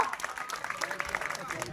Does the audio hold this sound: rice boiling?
no